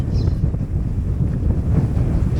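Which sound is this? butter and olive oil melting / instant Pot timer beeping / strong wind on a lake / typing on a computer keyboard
strong wind on a lake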